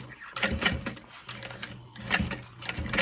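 A sewing machine stitches a backpack seam through thick exterior fabric and lining, its needle chattering in quick rhythmic bursts close by.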